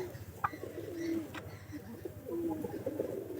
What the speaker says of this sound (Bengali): কবুতর গুলা ভালো আছে